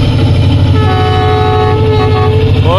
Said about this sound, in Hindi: हॉर्न बजाया मेरे कहने पे